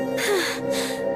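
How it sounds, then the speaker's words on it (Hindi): A person panting after running, two heavy breathy gasps in quick succession, close and fairly loud, with a faint tonal hum underneath. "कुछ देर भागने के बाद वो फिर से हांफने"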